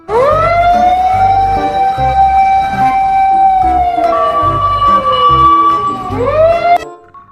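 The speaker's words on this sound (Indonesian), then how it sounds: "Ini mobil pemadam kebakaran" A loud wailing toy fire engine siren rises, holds a steady tone, then winds down and up again, sounding close with no talk over it.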